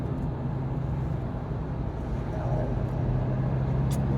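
A Mahindra Thar 4x4 manual with its mHawk engine cruises along a highway, giving a steady low cabin drone of engine, road rumble and wind.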